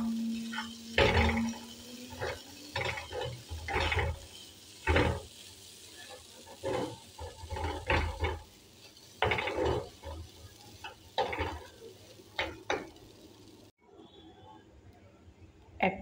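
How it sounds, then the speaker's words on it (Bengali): Broken wheat dalia is stirred in a kadai with ghee, giving irregular scraping and rustling strokes with short pauses between them, fairly quiet and close. "এবার ডালিয়াটা দিয়ে নাড়াচাড়া করে নেব।"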